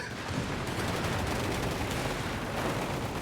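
Gunfire and an artillery barrage from the World War II strategy game Company of Heroes 3 make a dense, continuous rumble of overlapping shots and blasts, steady and moderately quiet, with no voices.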